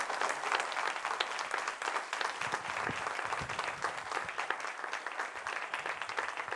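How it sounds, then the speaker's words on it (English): An audience at a Focolare Movement general assembly applauds a cardinal in thanks, steady crowd clapping heard at a moderate distance throughout. "This applause says our profound thanks to you, Your Eminence"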